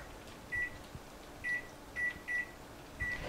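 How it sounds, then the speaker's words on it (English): Kitchen timer being set for a batch of beer-battered chicken fingers: five short, faint electronic beeps spaced irregularly over a few seconds, alone in a quiet room. "I'm going to put 6 minutes on my timer."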